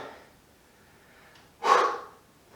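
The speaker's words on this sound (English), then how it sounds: "You're going to hear me breathing heavy on this one." A single loud, breathy exhale bursts out after a stretch of quiet, low breathing, close to the mic, like a hard gasp during a plank workout.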